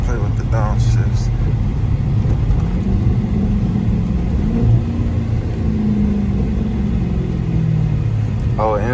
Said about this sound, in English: Play with the downshifts.